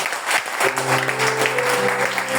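A church congregation applauds and cheers for Jesus at an evangelistic service, steady loud clapping from many hands with a sustained musical tone underneath.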